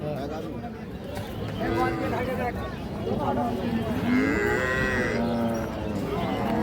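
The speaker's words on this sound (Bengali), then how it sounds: "এটা গাভী?" Holstein Friesian dairy cows at a busy cattle market, one moo rising clearly and a second lowing call following, over steady crowd chatter and nearby conversation.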